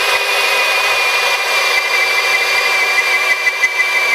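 A power drill with a core bit bores a hole in tile, giving a steady, loud, continuous whine with grinding noise that holds unbroken for the whole stretch.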